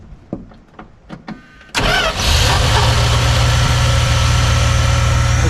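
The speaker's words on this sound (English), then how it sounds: "See if it'll fire back up again with the clutch all the way in." A 1977 Dodge Power Wagon W150, parked for twenty years, cranks briefly with a few sharp ticks, then fires and settles into a loud, steady, rough idle with strong low rumble, close to the microphone.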